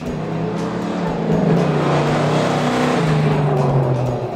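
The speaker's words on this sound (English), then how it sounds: "It's a 1970 Plymouth Cuda with a 426 Hemi and a convertible top." A 1970 Plymouth 'Cuda convertible with a 426 Hemi V8 and automatic transmission runs close and loud, a steady heavy rumble that rises slightly in pitch, heard alone without voices.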